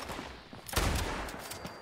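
A sharp, loud gunshot bursts out partway through, followed by a decaying crackle of gunfire in Fallout 76, with quieter background noise before it.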